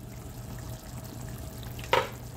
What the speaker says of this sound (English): I'm going to tend to this sauce a little bit. I'm going to stir it.